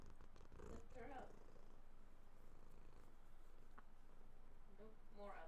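A pet cat purrs close to a microphone, a soft, continuous low rumble beneath faint background hum, with quiet talking over it.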